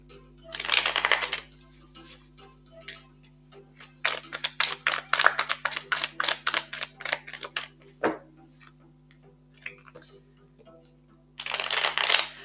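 Tarot cards are riffled and shuffled for a reading in quick, crisp bursts of flapping clicks, close to the microphone, with a brief burst at the start, a longer run in the middle and another at the end, between quiet pauses.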